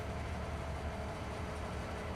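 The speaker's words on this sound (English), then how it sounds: "Yeah, I haven't used the train to sell in a while." Train in the farming video game Farming Simulator 25, a steady low rumble of rolling rail wagons with a faint constant tone, holding at an even level throughout with no talking.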